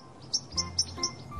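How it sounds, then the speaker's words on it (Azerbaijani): A blue jay gives four short, sharp, high calls at an even pace, each clear and close against a quiet background. "This is a blue jay."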